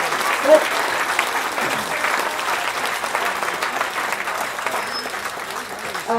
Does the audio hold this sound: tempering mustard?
no